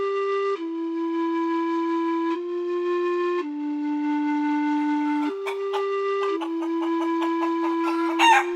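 A rooster crows in long sustained calls, joined by chickens clucking in quick bursts toward the end, close and loud.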